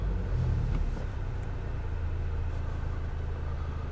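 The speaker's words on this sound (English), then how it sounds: "start the car" A Volkswagen Golf GTI engine starts with a brief low burst at the outset, then settles into a steady, deep idle rumble heard from inside the car.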